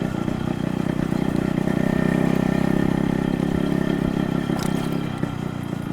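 A restored Yamaha-era two-stroke style motorcycle engine idles steadily nearby, its exhaust note a loud, even, throbbing burble with a light mechanical clatter and no speech over it.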